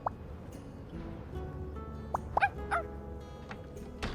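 Brief yips and small barks from Nemo, a dog in the video game My Time at Sandrock, come as a few short, separated calls over a steady game-music bed.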